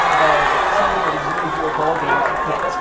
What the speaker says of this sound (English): And now we have a very vocal crowd here, especially the student section and the cheer team